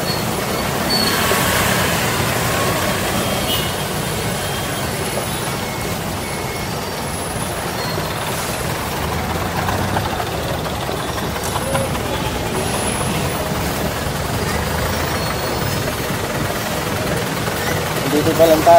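Heavy road traffic with trucks and buses, a loud, continuous rumble and hiss heard from close by, with a voice talking over it.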